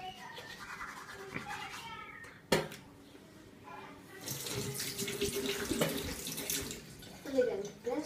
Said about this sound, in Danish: Vasker jeg lige hænden.